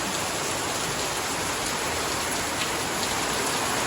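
Heavy rain pours down in a dense, steady hiss, falling hard and continuously on surfaces nearby in a rural countryside setting, with no voices heard.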